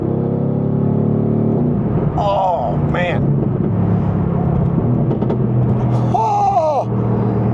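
Mercedes-AMG GT R sports car pulling hard on a track in Sport Plus mode, a steady loud engine drone running throughout with a voice exclaiming over it.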